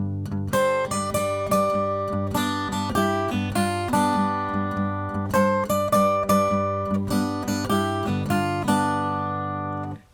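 An electric guitar plays a riff in a steady, repeating rhythm. The plucked notes are clear and close, with no voices, and the phrase loops for about ten seconds before ending.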